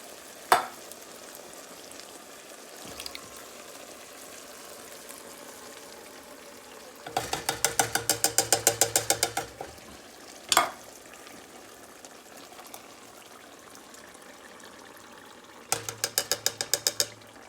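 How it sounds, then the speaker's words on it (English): Pork and beans in tomato sauce, four cans with their juice, being stirred in a pot; bursts of rapid scraping and clacking come in two runs of about two seconds, with a few isolated knocks between and a low background hiss. "All right, give that a stir."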